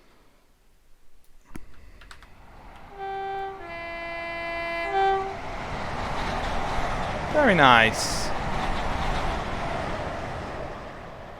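A train passing in a railway simulator game on a route toward Brighton, with horn-like tones and a rising rumble of wagons, then a sharp squeal as it goes by; a voice briefly comments over it.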